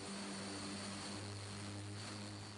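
An overhauled aircraft engine runs on a test stand inside a test facility, a steady loud droning roar with a constant propeller-like hum that holds unbroken throughout, with no speech.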